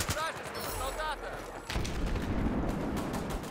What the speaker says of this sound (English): Artillery! They are bombing us!